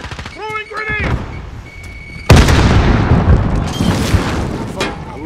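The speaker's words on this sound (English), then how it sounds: "Throwing grenade!" A grenade detonates in a Call of Duty Modern Warfare Domination match, a sudden loud blast with a long rumbling roar and debris that keeps going for seconds, preceded by brief game voice chatter.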